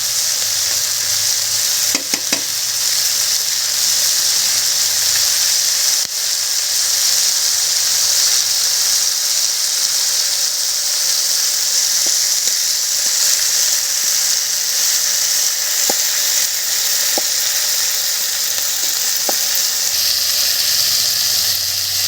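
Sliced onions fry in a pan until light brown, giving a loud, steady sizzle that runs throughout, with occasional faint clinks of a spoon stirring.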